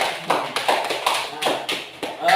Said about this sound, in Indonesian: Ya, tepuk tangan untuk semuanya.